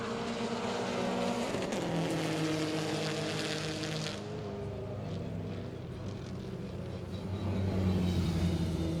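A stock BMW M5 with a V10 and tuned ECU running on the Road Atlanta circuit during a time attack event, its engine note droning steadily with shifting harmonic pitch, loud and continuous throughout.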